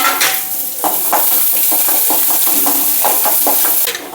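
Garlic sautés loudly in a hot pan, a strong continuous sizzle punctuated by a rhythmic run of spatula scrapes and clinks as it is stirred.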